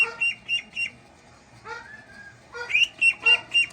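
Several short, bright bird calls come in quick bursts, a pause, then another cluster of chirps, fairly close and clear.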